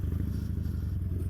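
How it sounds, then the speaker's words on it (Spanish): Motorcycle bumping and jolting over a rough, rocky dirt track, engine rumbling steadily with clattering and scraping from the tires over loose stones, close and continuous. "las piedras hacen que brinquen mucho la moto y se va moviendo las llantas"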